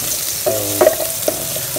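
Garlic frying in a pan, browning before onions go in, with a constant close sizzle and a few short utensil scrapes, and no talk.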